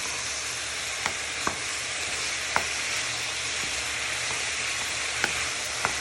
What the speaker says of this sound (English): Give that a little bit of a stir in, so it gives flavour, and everything starts to cook together.